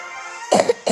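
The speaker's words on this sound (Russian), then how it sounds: "Подожди, я уже кашлять начал." After a quiet hum, a person coughs a few times in quick succession, close and abrupt, with a short pause before a final cough, while climbing a high staircase in the cold.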